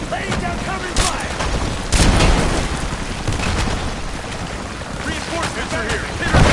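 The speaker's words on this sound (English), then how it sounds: "Laying down covering fire!" Rapid gunfire from a firefight in Rise of the Tomb Raider, dense and continuous with sharper cracks standing out, loud and close under a steady roar of wind-like noise.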